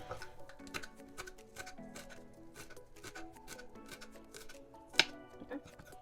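A knife chops herbs such as basil on a cutting board in quick, irregular rapid taps and thuds, close and fairly quiet, with one sharper knock partway through.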